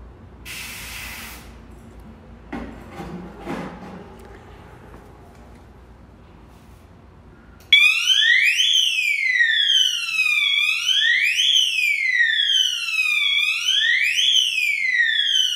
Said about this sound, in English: we'll test the smoke detector. We use the smoke tester